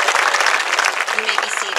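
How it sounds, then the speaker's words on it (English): Graduation ceremony audience applauding an Art Honor Society member, a loud, dense burst of many hands clapping that continues steadily, with faint voices in the crowd. "Round of applause."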